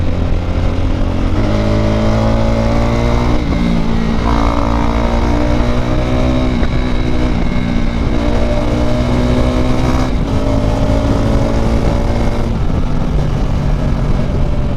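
A KTM RC 390 motorcycle with an Akrapovič exhaust accelerating hard, heard close from the rider's position, with a steady loud engine roar rising in pitch through repeated gear changes.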